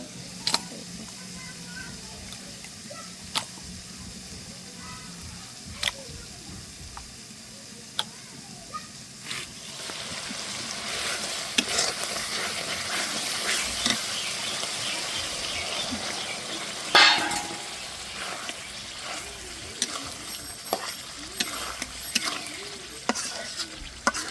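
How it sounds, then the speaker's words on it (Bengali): Spiced liver sizzles in a pan while being stirred, a low steady frying hiss punctuated by sharp scraping and clinking strokes of the spatula that grow busier and louder in the second half. "এবার সুন্দর মতো কষিয়ে নেব"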